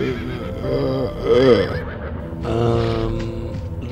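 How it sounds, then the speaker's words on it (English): A horse in the adventure game Limbo of the Lost gives a wavering, drawn-out neigh that rises and falls, followed by a second, lower whinny, close and fairly loud. "Look at your horse."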